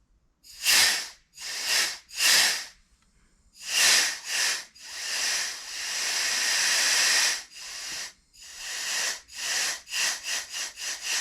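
Air hisses in repeated bursts from a leaking Poulan Super 25 DA chainsaw during a pressure test, escaping at the gasket and seals. Loud, close pulses give way to one long steady hiss and then a quick run of short puffs.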